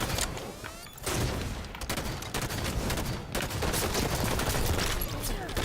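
Battle rifle fire in a Halo 5 multiplayer match, rapid repeated gunshot cracks and bursts mixed with other weapons and game effects, dense and continuous over a few seconds without speech.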